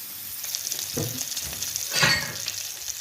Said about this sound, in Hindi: इसी साइज़ के आप कबाब बना के इन्हें फ्राई करते रहें